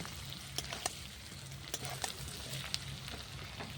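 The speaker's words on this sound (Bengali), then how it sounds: "ঢাকা দিয়ে আলু পেঁয়াজটা ভালো করে ভেজে নেব। আলুগুলো আমার ভাজতে থাক" Potatoes and onions fry in a pan over a clay earthen stove, a steady soft sizzle with scattered crackles and pops, fairly quiet and without talk.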